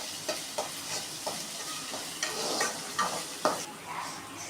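Onion-style ingredients sautéing with salt in a pan for a mutton brain fry, a steady close sizzle broken by repeated sharp scrapes and clicks of a spoon stirring against the metal.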